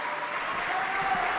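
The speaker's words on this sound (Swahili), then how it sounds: "Tuongeze tena makofi mengi kwa Mheshimiwa Rais" Applause for the President at a ceremony in Tanzania: a steady, dense wash of many hands clapping, continuous and fairly loud throughout.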